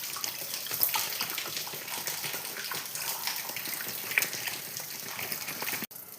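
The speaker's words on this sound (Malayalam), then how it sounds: "ഇനി മൗണ്ടൻ ഡ്യൂ കൊണ്ട് നമുക്ക് ഇതിലൊഴിച്ചാൽ" Mountain Dew soda poured into a container for lime juice, a steady fizzing, splashing pour running throughout at moderate level, ending abruptly near the end, with no talking.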